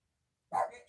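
A pet puppy gives a single short, sharp bark after a moment of silence, close and fairly loud.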